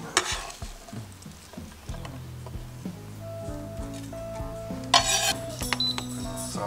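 Onion sautéing on high heat in an Instant Pot, a soft sizzle beneath a series of low tonal clunks and scrapes of a utensil on the metal pot, with a brief louder burst of frying near the end.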